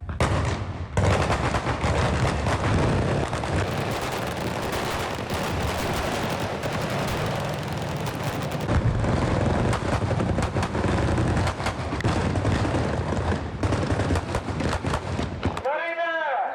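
Sustained bursts of staged gunfire and blasts roar continuously for about fifteen seconds, loud and dense, then cut off abruptly into a brief whooshing tail.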